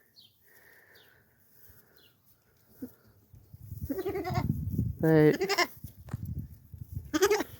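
A bottle-raised goat bleats loudly and close by, a few wavering cries in the second half after quieter rustling, with a brief spoken word.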